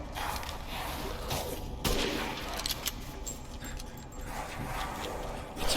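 Rapid gunfire from a sniper rifle in the horror game Resident Evil Village, a dense, continuous barrage of loud shots and booms layered over busy game sounds, with a sharp blast near the middle.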